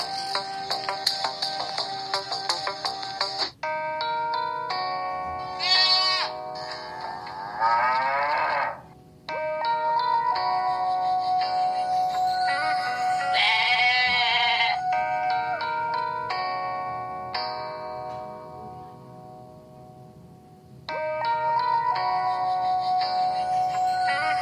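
A goat bleating in a series of loud, drawn-out nasal calls with brief breaks between them, running for about twenty-five seconds with no talk.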